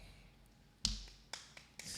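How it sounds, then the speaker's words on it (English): A single sharp hand clap rings out close and loud, followed by a few fainter, quicker taps in an otherwise quiet room. "A singular clap."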